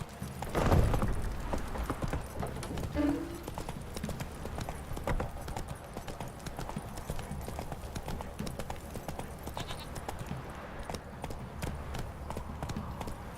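Roach, a horse in the video game The Witcher 3, gallops with quick, steady clip-clop hoofbeats running continuously at moderate volume, opening with a louder thud and snort.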